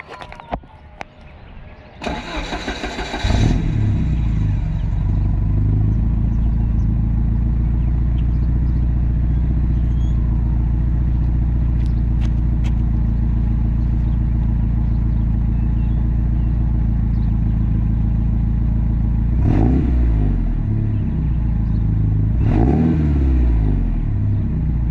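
Hot restart of a 1986 Porsche 944 Turbo engine: a brief cranking clatter, then the engine catches and idles loud and steady with a deep rumble, broken by two short blips of revs later on.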